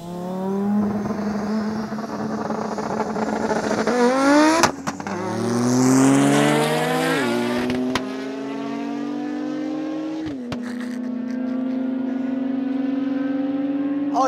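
An 800 hp Audi S2 and a 630 hp Porsche 911 Turbo S accelerate hard from a 40 km/h rolling start, engines climbing through several gear changes with loud, sustained roaring revs.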